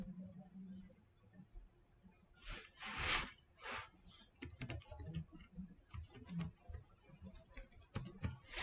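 A bank branch code being typed on a computer keyboard, a close run of quick irregular clacks with a few heavier key presses and short pauses, no voices.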